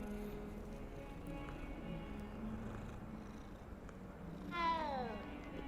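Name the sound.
black cat being petted in video game Hogwarts Legacy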